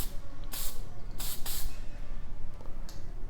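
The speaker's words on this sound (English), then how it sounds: "Now when we use this spray can, we want to make a sweeping motion or a dusting motion over the" Aerosol spray paint can spraying over a damaged railing in short bursts, three or four crisp hissing puffs close by, separated by quiet gaps over faint background noise.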